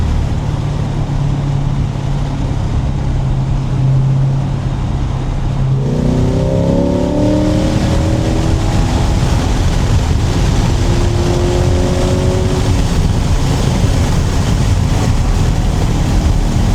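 A C8 Corvette Z51 engine blares loud and close, a steady drone at first, then a downshift and a hard acceleration with the pitch climbing through the gears, all against constant road and wind roar.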